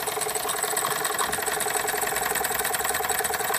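A Jensen Model 75 toy steam engine runs with a continuous, rapid mechanical whir and chatter. It is close and steady, with no voices over it.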